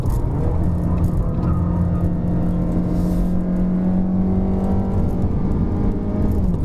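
A 2019 Mazda3 liftback with a 1.5L engine climbing a steep hill road, its motor droning steadily from inside the cabin while the pitch rises and drops as gears shift between second and third.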